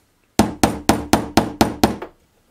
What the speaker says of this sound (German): Die Löcher für die Büsche mache ich einfach mit einem Nagel und einem Hammer.